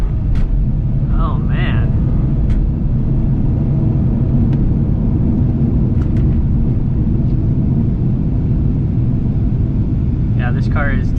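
A 2017 BMW 540i with rear-wheel drive accelerating, its engine and road noise forming a loud continuous low rumble throughout, with someone speaking briefly over it.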